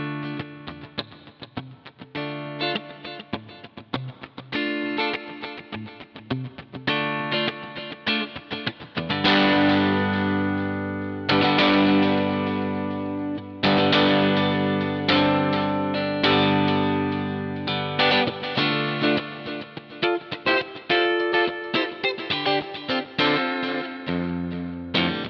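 An electric guitar is played through a Tonefreak Naked OD overdrive pedal, with picked notes and ringing chords carrying gritty distortion, sparse at first and then fuller and louder.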